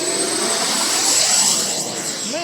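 An FMS 80mm F-86 Sabre EDF RC jet whines steadily at full power on its takeoff run, a loud, high-pitched ducted-fan roar that stays close and constant, with a rising whine near the end.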